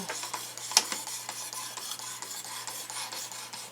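A knife blade stroked repeatedly against the abrasive of a Work Sharp Precision Adjust sharpener, giving a steady run of close, dry rasping passes with one sharper scrape early on.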